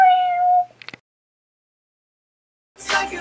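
A cat meows once near the start, a clear drawn-out tonal cry followed by a few short scuffles, then silence before a burst of broadband noise at the end.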